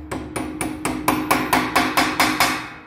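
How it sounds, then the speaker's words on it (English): Light hammer taps on a steel pin being seated into a pre-drilled hole in a door lock mechanism, during a fail-secure to fail-safe conversion: about ten quick, even, close metallic knocks in a steady rhythm, with no voices. "taps with a hammer."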